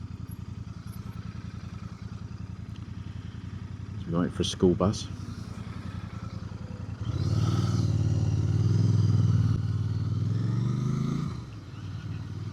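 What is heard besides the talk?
Royal Enfield Bear 650 twin motorcycle engine riding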